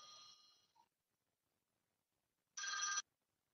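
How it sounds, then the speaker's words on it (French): A telephone rings in two short electronic bursts separated by silence, the first fading out, the second loud and close; no talking. "Une seconde, téléphone."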